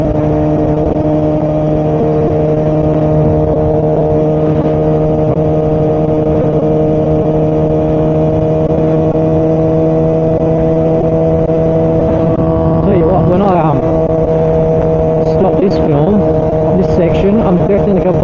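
A modified Kawasaki ZX4R motorcycle is ridden, heard from a helmet as a loud, steady engine drone with wind roar that rises in pitch briefly near the end, while a rider talks over it.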